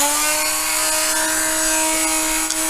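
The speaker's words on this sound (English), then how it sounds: "What I've done is I've put a little drill in to start off with" A steady, high-pitched whine of a cordless drill running continuously into brittle 3D-printed plastic, close by, with a faint grinding edge as it bites into material.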